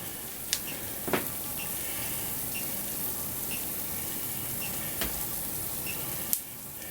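Sausage gravy sizzles steadily in a pan at low volume, with a few sharp clicks and taps of a utensil against the pan scattered through the quiet, even frying hiss.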